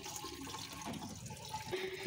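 Water runs from a push-button drinking tap at an eco park, a quiet steady outdoor trickle with no voices.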